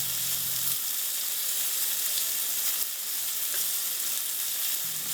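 Smelts pan-frying in minimal oil in a deep frying pan, giving a steady, close, continuous sizzle with a faint low hum at the start and end.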